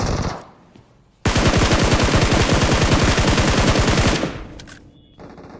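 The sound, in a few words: gunfire in BGMI video game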